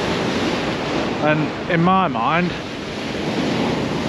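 Onshore wind buffeting the microphone and surf breaking on a sunny beach at Skegness, a constant loud rush, with someone speaking briefly over it in the middle.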